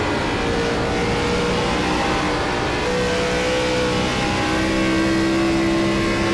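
A Gen4 cup series race car at Charlotte roars steadily at full volume, the engine note dipping and rising as the driver lifts off the throttle completely and gets back on it, with other cars blending into a continuous engine wash.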